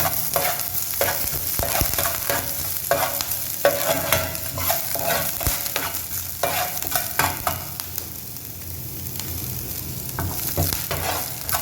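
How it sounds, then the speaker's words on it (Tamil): Chicken rolls frying in a pan, a continuous close sizzle broken by repeated clattering stirs and turns of a utensil against the pan, steady and moderately loud with no talking. "இதை அப்படியே ஃப்ரை பண்ணோம்னா"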